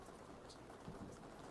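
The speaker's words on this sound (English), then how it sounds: "It's raining hard now." Heavy rain pours down in a steady, dense hiss with no breaks, drops drumming on surfaces; faint low rumbles sit beneath the wash throughout.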